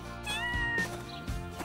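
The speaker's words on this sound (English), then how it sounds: "Oh, there are so many homeless kittens." Among homeless kittens in a park, a cat gives a couple of short, clear meows close by, with nothing else around them.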